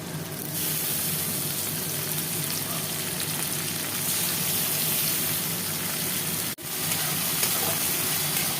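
Onions browning in hot oil sizzle steadily as spices go into the pan, a continuous close frying hiss with a brief dip near the end, no voices.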